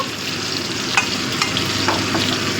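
Potatoes and beans frying in a pan with a steady, loud sizzle, broken by a few scraping stirs.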